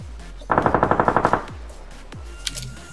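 A PUBG automatic rifle fires a short, sharp burst of about ten rapid shots in quick succession, with thuds and quieter game sounds around it and no speech.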